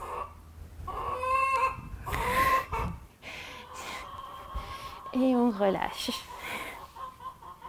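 Chickens cluck and squawk intermittently near a spring outdoor yoga session, with an occasional longer call, under a woman's calm spoken instructions.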